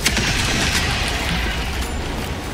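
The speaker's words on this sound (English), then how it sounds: "Calling in orbital strike! Orbital strike incoming." A heavy orbital strike detonates in Helldivers 2, a loud booming blast at the start that rolls into a long, dense rumble as the explosion fades slowly.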